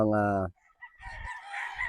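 A game farm rooster crows briefly and loudly at the start, followed after a short pause by a rougher, noisy call or squawk.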